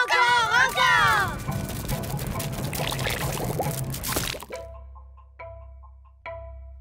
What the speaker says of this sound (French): J'ai bien cru un moment que nous allions avoir droit encore une fois à un torrent de gelée